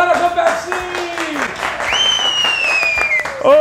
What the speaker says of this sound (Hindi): आपकी तालियों में तशरीफ लाते हैं